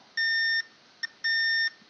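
Multimeter continuity tester beeping while probing a voltage regulator's pins on an EB832 repair board: two clear, loud electronic tones, each about half a second long, with a short blip between them.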